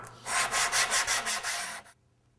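Sanding a wooden guitar neck smooth by hand, a close, loud run of about six rhythmic abrasive strokes over roughly two seconds, then it stops into silence.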